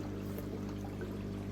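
Dechlorinated water poured into a 220-litre fish tank holding fry, running down the inside wall as a steady, continuous close pour with a low hum beneath.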